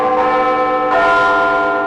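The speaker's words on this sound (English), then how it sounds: "People do come from all over the world just to listen to the bells of Big Ben." The bells of Big Ben in London ring out loudly and close, a rich sustained metallic chime with long resonant overtones, a second strike entering about halfway through.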